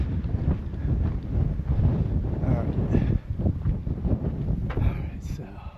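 Strong, steady afternoon wind at a campsite buffets the microphone, a constant low roar that gusts and rumbles throughout, with a voice faintly present beneath it.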